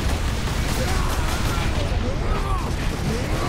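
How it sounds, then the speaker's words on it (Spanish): Battle in Warhammer 40k: Space Marine: a dense roar of explosions, booms and gunfire rumbling continuously at loud volume, with a voice talking over the fighting. "Oh god, explosión, explosión."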